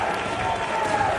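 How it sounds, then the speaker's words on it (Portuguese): A crowd at a political rally in Chile boos politicians, a dense sustained roar of many voices with no clear breaks, fairly loud and continuous. "E todo mundo vaiando eles aqui."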